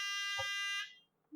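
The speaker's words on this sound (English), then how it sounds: "we have a buzzer." A loud, steady electric buzzer wired to a battery in a simple circuit drones with a harsh tone for almost a second, then cuts off, leaving near silence.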